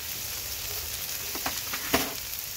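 Burger patties sizzle loudly on a Blackstone griddle for cheeseburger sliders, a continuous crackling hiss with a few sharper pops and spatters near the end.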